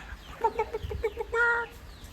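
Chickens and a rooster roaming around litter at a Vietnamese restaurant give a quick run of close clucks, then a longer, louder drawn-out squawk, with no voices.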